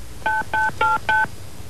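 A telephone is dialed with four short DTMF key tones in an even rhythm, clear and close, with no talking.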